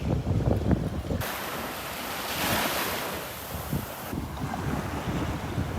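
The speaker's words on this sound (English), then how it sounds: "even with that wind coming in off the Gulf" Wind gusting in off the Gulf at a beach on a warming winter morning, roaring steadily across the microphone over the wash of surf, rising harder in the middle stretch and easing slightly toward the end, with no one speaking.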